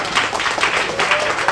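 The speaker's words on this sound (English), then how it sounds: "So a quick round of applause for those guys." An audience at an OWASP New York chapter meeting gives a brief, quick round of steady applause, heard fairly close.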